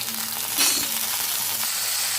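Ground masala paste sizzles and fries steadily in lightly heated oil in a kadai for an egg malai curry, a continuous soft crackle heard close up with no talking.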